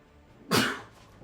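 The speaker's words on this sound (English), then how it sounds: "Had a sneeze there." A single sharp sneeze bursts out close by, lasting under half a second, with quiet room tone before and after.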